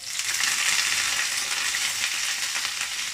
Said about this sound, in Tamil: இப்போ கருவேப்பிலை போடும்